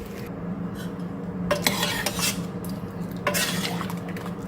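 A home kitchen where a pan of ivy gourd poriyal comes off the stove and dal is tempered, giving close clanks of metal pots and utensils in two bursts over a low steady background hum.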